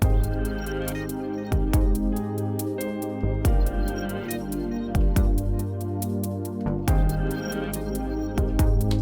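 Acoustic piano chords ring out over a sustained, shimmering synth pad, with steady rhythmic notes and no voices.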